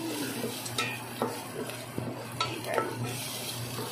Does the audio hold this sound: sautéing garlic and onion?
yes